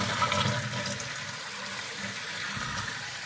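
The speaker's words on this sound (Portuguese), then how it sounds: "E vamos dar descarga para nós ver se não tá vazando" A toilet flushes in a bathroom after a leaking connection tube between tank and bowl was replaced, giving a steady loud rush of water that drains on through the whole span with no talk.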